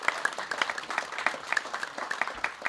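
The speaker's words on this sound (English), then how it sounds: "Give them a huge round of applause." Audience clapping at a blues night held by the Melbourne Blues Appreciation Society, steady dense claps from a modest crowd filling the room, fairly close and unbroken by talk.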